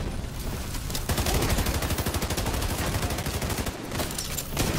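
Sustained rapid gunfire from a group of players shooting at a boss in the video game Iron Horse, dense and loud, with continuous bursts across the whole stretch and a brief dip near the end.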